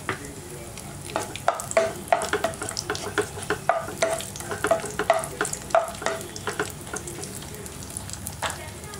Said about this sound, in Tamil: இப்போ வந்து முந்திரி திராட்சை வந்து நம்ம வறுத்துக்கலாம்